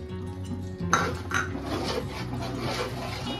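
Mutton achari for a large 4 kg batch being mixed in a pot with kalonji seeds added, giving close scraping and clanking of a spoon against the metal pot after a sharp start, steady through the stretch with no talk.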